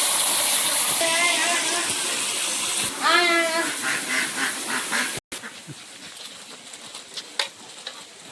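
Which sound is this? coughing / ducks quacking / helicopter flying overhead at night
ducks quacking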